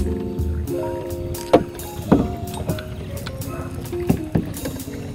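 Paddling a rented canoe on a lakeside campsite lake in Cavinti, Laguna: soft splashes and knocks of paddle strokes at irregular intervals over a steady water and wind wash, close to the microphone.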